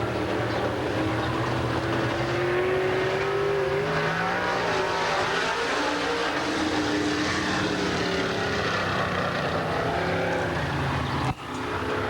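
Race car engine on a qualifying lap at a 1998 PPMS Hav A Tampa Series oval event, a loud steady roar with rising and falling pitch sweeps as the number 12 car passes, continuous throughout, with a brief dropout near the end.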